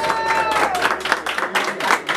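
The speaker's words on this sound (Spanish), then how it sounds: "El aplauso" Crowd clapping at a quinceañera with a youth mariachi band, a brief burst of rhythmic applause in fairly even beats over a faint sustained tone and background noise.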